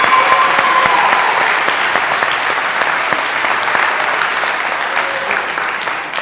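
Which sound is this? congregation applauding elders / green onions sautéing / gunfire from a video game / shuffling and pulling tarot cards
congregation applauding elders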